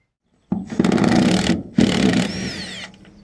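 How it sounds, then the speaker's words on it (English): On a 1996 Ford F250, the auxiliary tank filler neck is unscrewed in two loud bursts of whirring power tool sound, each about a second long, separated by a short pause and with a faint squeak at the end. "I'm gonna go up there and unscrew it."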